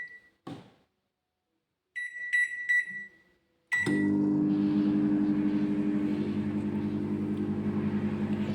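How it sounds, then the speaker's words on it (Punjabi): A microwave oven heating covered potatoes to boil them gives a few short electronic beeps, then starts with a click into a loud, steady droning hum that runs unbroken to the end, with no talking. "ਹੁਣ ਇਹਨਾਂ ਨੂੰ ਆਪਾਂ ਜੀ ਰੱਖ ਦਿੰਨੇ ਆ ਮੈਕਰੋ ਦੇ ਵਿੱਚ"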